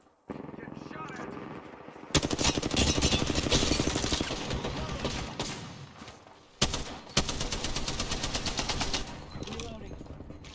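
Sustained automatic gunfire from Apex Legends rattles in long, dense, loud bursts, broken by a short pause, with rapid shots stacking up close by.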